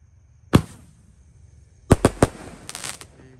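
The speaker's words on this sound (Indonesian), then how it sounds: "eksperimen menyalakan mercon Roman candle terbesar hari ini" Large Roman candle fireworks set off at night, one sharp loud burst followed after a pause by a quick run of three cracking shots and a fainter crackling tail, with no voices.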